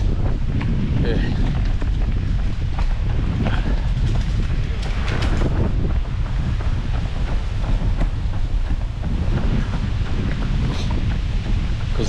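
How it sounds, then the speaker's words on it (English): Strong wind in Saint-Omer, France roars and buffets steadily, a loud, constant rushing blast with gusty rumbling throughout. "it was pretty windy, it's still windy now"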